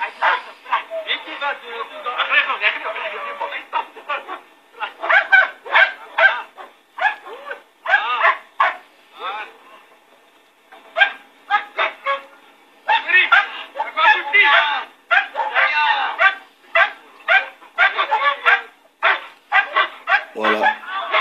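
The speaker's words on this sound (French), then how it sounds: "On entraîne leurs chiens." Police dogs barking in bursts during a training session, repeated loud barks and yelps scattered across the stretch, mixed with shouting and talk from people nearby and a brief pause in the middle.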